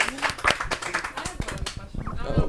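A group of people clapping hands in scattered, uneven bursts, close and moderately loud, with talk mixed in.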